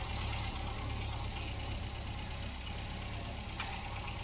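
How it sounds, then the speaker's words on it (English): A 1967 MGB Mk1 engine idles at just under 800 rpm with a low, even rumble and a faint mechanical knock, close by and unchanging. "I'd like it idling a little bit faster"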